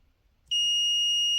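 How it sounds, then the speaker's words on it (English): A multimeter's continuity tester, probing a fuse in a Yeelight YLAI002 smart dual control module, gives one sudden, steady high-pitched tone that holds unbroken for about a second after a quiet start. "at this point we should get some beeping if the fuse is still okay"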